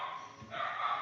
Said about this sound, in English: That's my dog down there, I'm sorry.